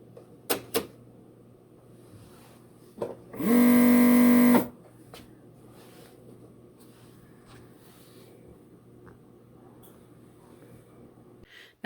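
A serger's air-threading vacuum switched on by a foot pedal gives a loud, steady whoosh for about a second and a half, set among a few faint clicks in an otherwise quiet room.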